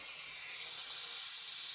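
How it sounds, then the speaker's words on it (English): A Shark garment steamer runs over yarn fringe tassels on a poncho, producing a steady, soft, high hiss that stays even from start to end. "I'll run my shark steamer down it"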